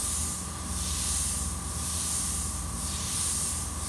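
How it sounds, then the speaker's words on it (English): An airbrush sprays paint onto a t-shirt, laying down whisker-like rat tail or dagger strokes: a steady close hiss that swells and eases in repeated bursts, alone with no talk. "Airbrush is very good for making whiskers along what we call rat tail strokes or dagger strokes."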